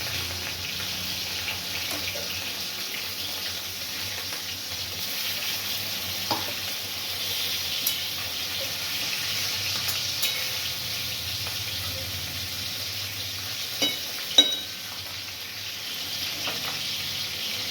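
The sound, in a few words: fish pieces frying in hot oil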